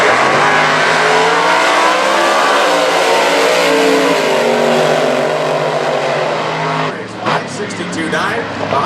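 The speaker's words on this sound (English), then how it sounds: "124 miles an hour for Crook in the Seneca, New York, the 1948 Austin" A 1948 Austin gasser drag racing car roars and climbs in pitch as it accelerates hard down the strip, loud and close, with an announcer talking over it.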